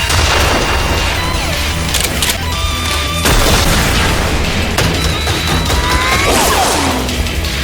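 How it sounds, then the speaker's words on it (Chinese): Anime battle royale gunfight from Sword Art Online Alternative: Gun Gale Online, with loud, dense booms, crashing explosions and bursts of gunfire that cut off sharply and restart, heavy and continuous with whistling effects. "听着2秒后才传来的爆炸声，小莲一瞬间就算出了信号弹距离自己660公尺远"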